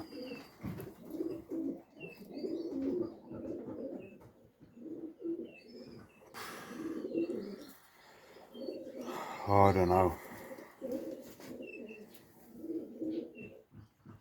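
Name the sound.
racing pigeons cooing in the loft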